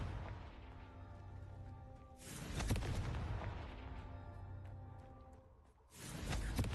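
Confringo blasting spell in Hogwarts Legacy bursting in two loud booming explosions a few seconds apart, each followed by a rumbling decay over a low game soundscape.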